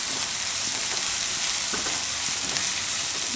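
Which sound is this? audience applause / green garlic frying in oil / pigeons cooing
green garlic frying in oil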